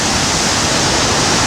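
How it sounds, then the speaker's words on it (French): Violent ocean waves crash on the beach at Imetson, behind the Radisson, a loud, dense, unbroken roar of surf with no voices. "ils affrontent la violence des vagues qui s'abattent contre eux"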